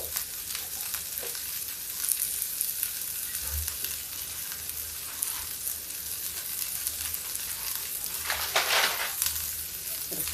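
Onion frying in a pan over a high gas flame, a steady broadband sizzle throughout with a brief louder crackling surge near the end, no talking.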